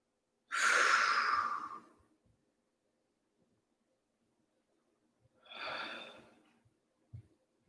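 Two long, audible exhalations during a yoga flow, each a breathy whoosh lasting over a second, separated by several seconds of quiet, with a faint soft rustle near the end.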